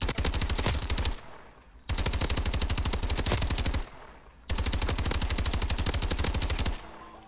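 Loud, rapid automatic gunfire from an XMG weapon in Call of Duty: Advanced Warfare, three long sustained bursts separated by short pauses, with no talking.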